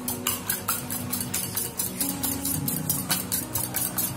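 Eggs whisked in a bowl, a quick regular clatter of utensil strikes against the bowl, close and clear with no talk over it.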